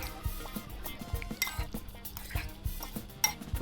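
Vegetables tossed with olive oil and seasoning for oven-baked salmon and vegetables, a spoon scraping and clinking against a metal pan or bowl in an uneven stirring rhythm, close and moderately loud with no talking.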